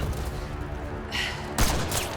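A sniper rifle shot fires in the shooter game Mass Effect Andromeda, a single sharp close report about midway through, set against a steady bed of game ambience and a brief earlier burst of noise.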